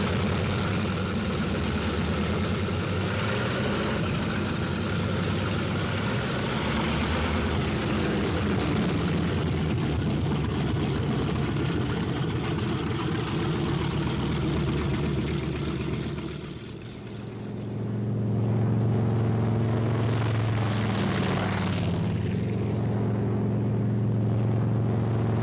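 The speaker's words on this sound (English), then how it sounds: "On the field, planes warm up." Steady, loud propeller engine drone rumbling continuously, with a brief dip before the roar swells again, as several World War II fighter planes warm up on an airfield.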